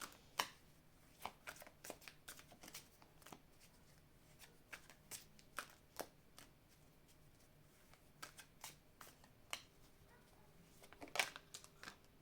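Oracle cards are handled and shuffled in a steady patter of soft, close flicks and riffles that build briefly into a louder flurry near the end, with no voices.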